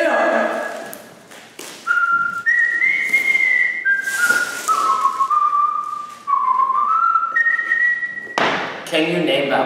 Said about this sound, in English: Can you name that whistle too?